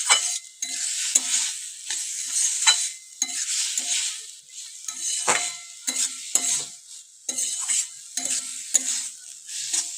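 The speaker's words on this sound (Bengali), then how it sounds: "তো এরকম ভাবে একটু ভালো করে ভেজে নেব।" Mushroom curry with a little added water fries in a pan, giving bursts of hissing sizzle as it is stirred repeatedly, with scraping and soft knocks of the spoon between bursts, close and without any talking.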